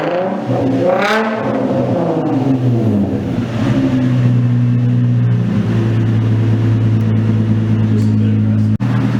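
Infiniti G35 with a VQ engine and catless test pipes revs up sharply, then settles into a loud, deep, steady drone at close range, ending with a brief click.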